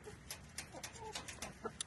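Chickens clucking softly in a coop, a few short faint calls in quick succession over a low background hum.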